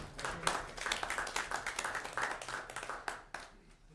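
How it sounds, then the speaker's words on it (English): Scattered clapping from attendees at a North Carolina MAC Commission quarterly meeting, a thin ragged patter of individual hands that fades out near the end, fairly quiet in the room. "give yourselves a big round of applause for a job well done in 2023"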